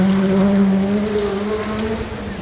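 An R2 rally car on a stage of the 2012 STPR Rally, its engine holding a loud, steady drone with a faint pitch rise as it drives past at close range.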